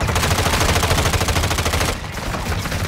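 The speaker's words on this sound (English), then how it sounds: "Taking effective fire." Rapid automatic gunfire in Call of Duty MW2, a loud continuous rattle of shots with a steady rhythm that briefly drops in intensity near the end before resuming.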